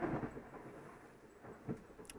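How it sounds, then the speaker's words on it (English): Distant thunder during a Texas storm, a low, soft rumble rolling steadily underneath with a couple of slightly stronger swells, faint and far off with no voices. "There's thunder in the background."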